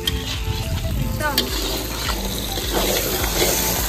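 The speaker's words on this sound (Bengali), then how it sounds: "মাংস কষানো চলছে, এবার আলুগুলো দিয়ে মাংসটাকে ভালো করে কষিয়ে নিচ্ছি" Meat is sautéed in a pan with a steady close sizzle and occasional stirring scrapes, a light watery bubbling running underneath.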